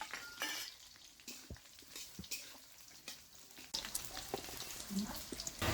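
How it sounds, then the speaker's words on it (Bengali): Onions fry in oil with whole spices in a pan on a village clay stove, a faint sizzle with scraping stirs and utensil knocks. "পেঁয়াজ ভাজা হয়ে গেছে"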